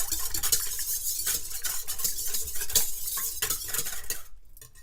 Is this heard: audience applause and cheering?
no